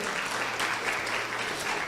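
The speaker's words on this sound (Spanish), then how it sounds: "Denle un aplauso al Señor" Church congregation applauding the Lord during a Spanish-language sermon, continuous dense clapping filling the space at a steady level, with no voice audible over it.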